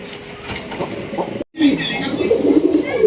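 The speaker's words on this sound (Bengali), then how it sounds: "যারা গিরিবাস কবুতর পালতে চান যারা উড়াইতে চান" Giribaz pigeons coo steadily at close range in a loft with a low mechanical rattle behind them, broken by a brief silent gap midway.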